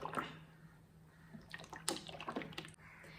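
A bottle of homemade castor hair oil is capped and shaken, giving a few close, quick sloshing clicks and knocks of thick liquid against plastic over a faint steady hum.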